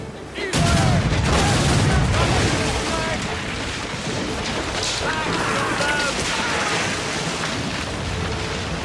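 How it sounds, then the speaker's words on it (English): A puckle gun, an early machine gun, fires at ships in naval combat in the video game Assassin's Creed Rogue, with loud, dense rattling gunfire over a rushing, stormy sea din, close and continuous. "Here, you can use the puckle gun, an early form of machine gun to destroy weak points in quick succession while free aiming."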